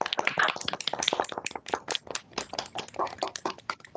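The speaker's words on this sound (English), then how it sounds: "I request the gathering to give her a round of applause." A school audience at a TOK exhibition event bursts into a round of applause, dense, steady clapping from many hands, fairly close and sustained throughout, with no talking over it.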